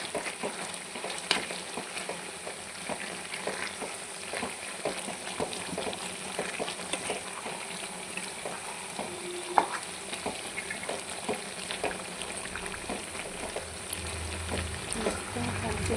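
Pickle being mixed and stirred in a pan: a continuous sizzle runs under repeated scraping strokes of a spoon, with one sharper clack near the middle and no talking.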